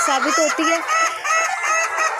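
Hens cluck in a shed bedded with rice husk, several birds giving short repeated clucks close by, with someone speaking over them.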